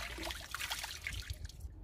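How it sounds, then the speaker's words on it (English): Water poured and splashed over a swimmer's face in open water, trickling and dribbling in short uneven bursts close to the microphone before falling away to quiet. "just experience that water coming down over your face"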